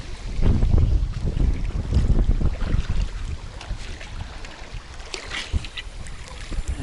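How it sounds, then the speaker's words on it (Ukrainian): Strong wind buffets the microphone at a lakeside spot while fishing for crucian carp, a loud rumbling roar with gusty surges that ease slightly toward the end, no one speaking. "Дуже дує."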